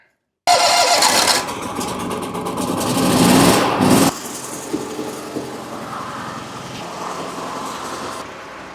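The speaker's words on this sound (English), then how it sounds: "I'm gonna start this lawnmower first if it'll start." A lawnmower engine sputters to life after a pull and runs loudly at a high rev, then settles into a steady lower idle nearby.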